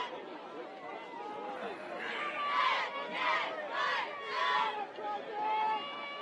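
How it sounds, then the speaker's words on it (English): A football crowd at Dick May Field roars and cheers in rising, repeated swells of shouting, with surges of voices and a busy murmur of chatter between them, loud and close. "that brings the crowd to its feet here at Dick May Field"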